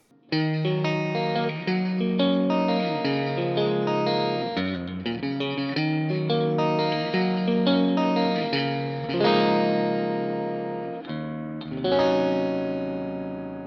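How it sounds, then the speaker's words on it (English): A distorted electric guitar through an amp-less pedalboard plays sustained chords and picked notes, washed in a splashy, ringing spring reverb that trails after each phrase. "Then if we add a bit of spring reverb"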